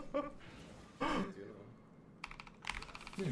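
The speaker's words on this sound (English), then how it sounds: "They always press their keyboards way louder than everyone else" A computer keyboard is struck loudly in a few short, hard bursts of clacking close by, separated by pauses, with a sigh or breath in between.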